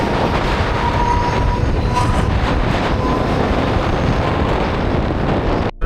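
A Mumbai local train runs between Govandi and CSMT, heard from inside near the open door as a loud, continuous rumble and wind roar with faint wheel squeal, ending in a sudden drop.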